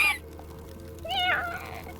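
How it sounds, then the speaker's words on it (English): A cat meows once in a video game, a short rising-and-falling call after a brief sound at the start, heard fairly close over quiet background. "Was that a fucking cat?"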